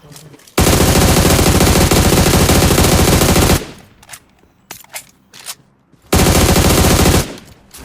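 Heavy gunfire from a video game battle, AWM sniper rifle in the mix, roars in two long, loud continuous bursts separated by a stretch of quieter scattered clicks and thuds.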